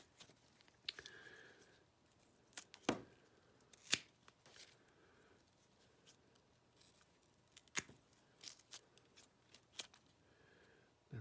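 Scissors snip plant stems to take cuttings, a series of sharp, quiet, close clicks spaced irregularly, several over a few seconds, with soft rustling of foliage between cuts and no talking.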